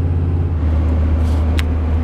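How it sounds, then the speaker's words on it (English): A truck's engine runs smoothly during a test drive, a steady low rumble with road noise filling the cabin, loud and continuous with no talk. "The engine runs perfect."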